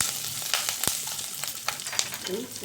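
Green chilies and lentils sauté in hot oil for lemon rice, giving a steady crackling sizzle with sharp pops and occasional stirring clicks, heard close up.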